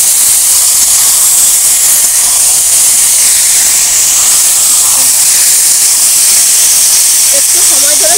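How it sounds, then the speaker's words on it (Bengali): Chicken pieces frying in oil in a wok give a steady, loud hiss of sizzling that runs throughout, with a few faint clinks near the end. "একটু সময় ধরে চিকেনগুলো ভেজে নেব"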